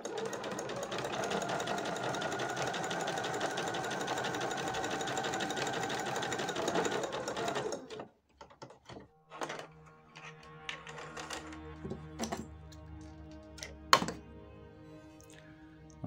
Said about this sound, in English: pop it into your sewing machine